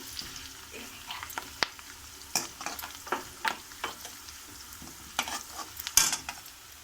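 A tomato and onion masala gravy with red chili paste being stirred in a pan for paneer curry: soft scraping stirs and light sizzling in an uneven rhythm of short strokes, close and fairly quiet.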